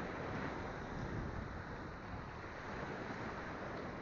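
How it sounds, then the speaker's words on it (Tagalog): Rough sea waves under a strong northeast monsoon wind, a faint, continuous broadband roar of surf and wind noise with no distinct individual breakers, no voices. "Maalon."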